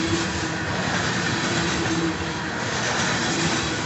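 A southbound BNSF grain train on trackage rights, led by two locomotives, rolls past close by as a loud, steady rumble with rail noise and faint clatter, holding even for the whole stretch without voices.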